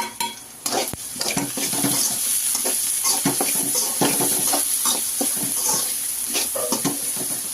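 Onions frying with salt and turmeric in a pan for fish sambar, giving a continuous close sizzle broken by repeated clinks and scrapes of a utensil stirring against the metal.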